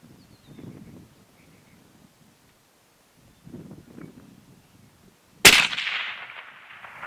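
A single 6.5 Creedmoor rifle shot fired outdoors at a Tannerite target breaks a long quiet stretch of faint rustling with one sharp, very loud crack, followed by a ringing tail that fades over about a second.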